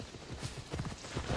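Horse hooves clip-clop in the video game Assassin's Creed Odyssey, a short run of quick, fairly close rhythmic beats over a soft background.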